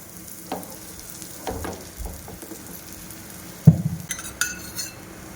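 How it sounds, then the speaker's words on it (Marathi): A paratha fries in oil on a hot griddle with a soft, steady sizzle, marked by a few light taps and scrapes and one sharper clatter near the end, with no talk. "छान तवा आपला प्रीहीट झालेला आहे आणि त्यावर आपला हा पराठा आपण अलगदपणे घालणार आहोत"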